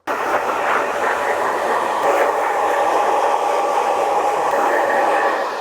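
A hair dryer runs steadily on a client's hair during a side-part haircut, a loud continuous whooshing drone that holds nearly unchanged from start to finish with no talk.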